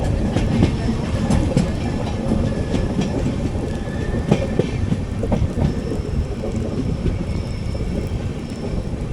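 A passenger train hauled by a WAP-4 electric locomotive rolls along the line, giving a loud, steady rumble with faint rhythmic clatter from the wheels and no voices.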